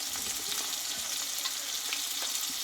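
Chopped tomato, salt and spices fry in a pan for Bengali moong dal, giving a steady, soft sizzle with faint stirring throughout.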